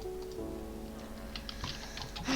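Keys clatter on a computer keyboard during Minecraft survival play, with scattered clicks that thicken toward the end, set against a steady tonal game sound.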